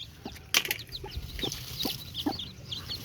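Farm chickens cluck and squawk close by in short, scattered bursts, with a brief flutter of wings, against a quiet outdoor background with no talking.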